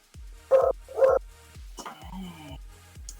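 Several excited dogs bark and yip in a room during a tabletop card game, with two loud barks near the start and weaker yelps and whimpers after them, with people talking lightly underneath.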